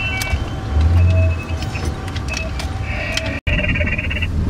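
A car driving toward the town centre, heard from inside the cabin: a low engine and road rumble with scattered clicks, rattles and a brief electronic tone, with one short dropout and no speech.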